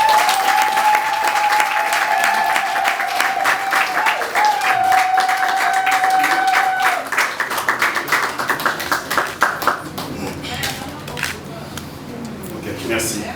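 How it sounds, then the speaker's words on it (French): Sustained audience applause fills a hall at a government handover ceremony in the DRC, dense and steady for several seconds before thinning out into scattered claps and murmuring. "applaudissements."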